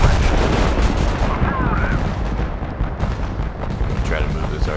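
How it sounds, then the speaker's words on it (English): An artillery strike in Total Conflict: Resistance pounds nearby as dense, continuous rumbling blasts and booming impacts, loud and sustained, with a voice talking underneath. "gonna call in another artillery strike"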